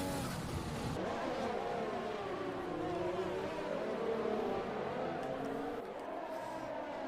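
Formula 1 cars racing at the United States Grand Prix in a racing game, a steady loud engine drone with rising and falling pitch as several cars pass close together, continuous for several seconds with no talk.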